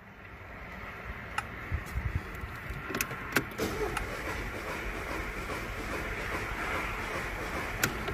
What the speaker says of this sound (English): foot fully down on the throttle, turn the key